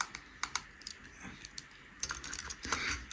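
Small stone earring tapped against teeth, giving a series of sharp, faint clicks spaced irregularly, some in quick pairs, close up with no talking.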